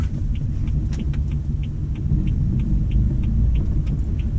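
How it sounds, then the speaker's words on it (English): A BMW M4 engine gives a low, steady, throbbing rumble close by, with faint rhythmic ticking above it and no clear rev blip. "and it has the rev matching downshift."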